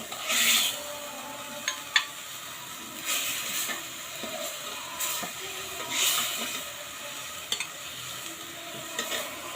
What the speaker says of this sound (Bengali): নেওয়ার পর এখন আমি এর ভিতরে বেগুনগুলো দিয়ে দিব।